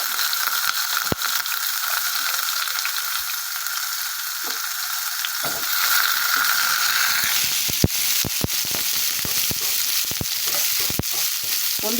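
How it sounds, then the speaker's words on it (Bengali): Chopped onion frying in mustard oil in a wok, giving a steady broadband sizzle throughout, with sharp intermittent clicks and scraping from nearby construction work breaking in during the second half. "অল্প পেঁয়াজ কুচি দিয়ে দিচ্ছি।"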